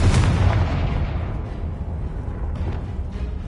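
Confringo blasting spell explosion in the Hogwarts Legacy video game, a loud booming burst at the start that decays into a rumbling tail, with no talk.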